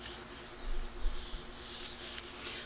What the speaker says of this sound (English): So put down a piece of cardstock, rub over the surface,